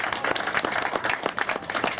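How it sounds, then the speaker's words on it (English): Guests at a wedding reception applaud the bridesmaids and ushers during the speeches, a dense, even clatter of many hands clapping together, fairly loud and continuous. "Can we give them a round of applause,"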